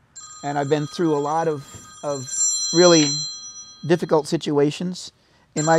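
Telephone ringtone during a talk with a pediatric emergency medicine doctor, heard as steady high electronic tones behind continuous conversational speech throughout.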